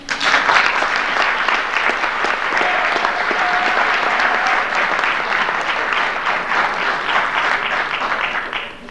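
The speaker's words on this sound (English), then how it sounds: "I think this soccer program deserves a big round of applause" A crowd at a high school fall sports awards night applauds the soccer program, a long, full round of clapping from many hands, steady and loud with no speech over it.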